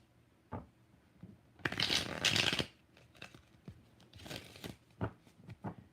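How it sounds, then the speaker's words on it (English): Tarot cards are shuffled in two brisk riffling bursts close to the mic, separated by softer taps and handling noises, in a quiet room. "2 more shuffles."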